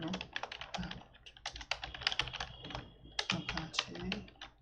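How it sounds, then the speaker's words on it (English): Steady typing on a computer keyboard as a terminal command is entered, a dense run of quick, close clicks with brief pauses, with a voice faintly present underneath. "So just type sudo apt to install apache2"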